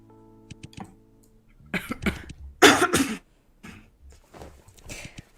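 Several close, harsh coughs and throat-clearing bursts come in uneven clusters, with a few soft clicks like typing and short quiet gaps between them.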